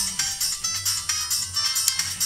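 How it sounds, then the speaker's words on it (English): Electronic phone ringtone playing a tune from Sonic CD, a bright, pulsing synth melody with a steady beat, fairly loud and continuous with no talk over it. "that ringtone is from Final Fantasy, or I was about to say Final Fantasy, Sonic CD,"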